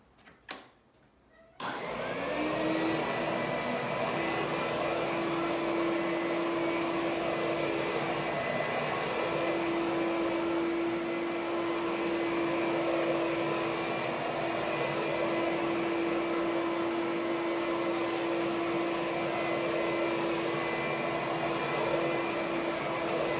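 A Bissell Big Green carpet cleaning machine starts up after a short bump and then runs in a loud, steady motor roar with a constant whine, close by and uninterrupted for the rest of the stretch.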